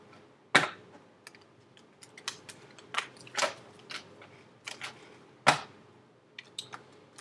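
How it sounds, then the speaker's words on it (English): A deck of tarot cards is shuffled quietly by hand, giving soft, irregular snaps and taps with a few sharper flicks spread across the stretch. "the reason I'm shuffling so much is because I haven't, reset the cards from the last reading"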